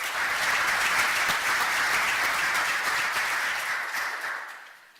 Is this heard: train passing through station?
no